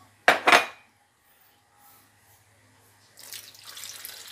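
Corn flour stirred into water in a metal pan while cooking atay atay in Bicol: two sharp scraping clinks of a utensil against the pan, a near-silent pause, then softer swirling, sloshing stirring.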